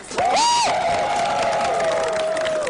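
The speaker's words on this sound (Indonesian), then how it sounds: "Tepuk tangan dulu." A gathering of an Indonesian basketball card community breaks into cheering and whoops, one loud voice holding a long rising-then-falling shout above a crowd clapping and calling out nearby.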